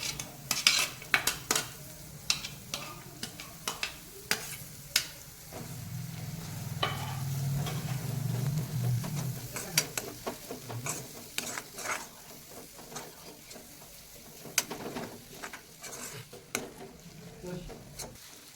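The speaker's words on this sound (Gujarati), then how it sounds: "હવે આપણે એમાં એક કાંદો એડ કરીશું, એને ઝીણો સમારી લીધો" Finely chopped onion fries in a pan for a green turmeric curry. A soft sizzle rises near the middle, with a spoon scraping and clinking against the pot throughout, close and fairly quiet.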